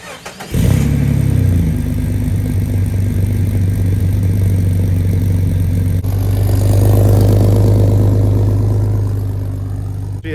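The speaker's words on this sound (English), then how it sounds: "that's just a MagnaFlow exhaust. I think it sounds pretty good though." A Jeep engine with a MagnaFlow exhaust idles loudly with a deep, throaty exhaust rumble, swelling into a brief rev partway through, steady and close.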